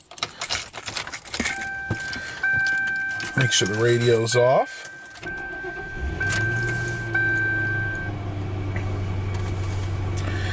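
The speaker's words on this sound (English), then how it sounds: "a cold start of my town car" A 1999 Lincoln Town Car with its V8 engine is cold-started: keys jangle, warning chimes sound, the starter cranks briefly, then the engine catches and settles into a steady low idle, with a person speaking over the start.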